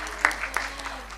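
Brief audience applause at a Dharma For Life first anniversary gathering, a light scattered patter of claps, moderately near and short-lived.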